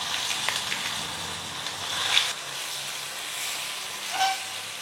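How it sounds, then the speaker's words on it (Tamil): Mustard seeds splutter and pop in hot oil while tempering for a Tamil gooseberry (nellikaai) thokku, a steady close sizzle with a few sharper crackles and no talk. "இப்போ கடுகு நல்லா பொரிஞ்சிட்ருக்குங்க"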